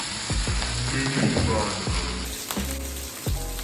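English mini banger sausages sizzling loudly in a pan, a dense close crackle with a few sharp knocks and scrapes from handling the pan.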